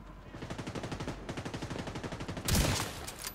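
Rapid automatic gunfire in The Division 2 video game, in steady bursts, followed by a louder blast near the end, with a sharp, synthetic game-like quality.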